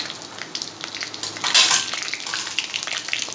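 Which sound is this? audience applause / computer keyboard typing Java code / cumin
cumin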